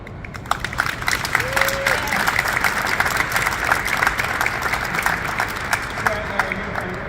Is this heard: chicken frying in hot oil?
no